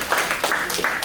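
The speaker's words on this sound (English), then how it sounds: "Can I get a round of applause?" An audience at a beginners' real estate event gives a short round of applause, a brief burst of dense clapping at moderate loudness.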